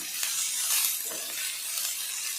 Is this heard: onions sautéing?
yes